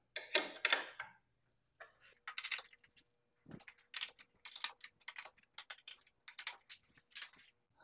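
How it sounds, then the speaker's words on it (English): A wrench loosening 13mm bolts on the fence rail of a SawStop PCS table saw, heard as a close series of short clicks and metallic ticks in quick irregular bursts, with quiet gaps between them. "I need to loosen the 9 13mm bolts"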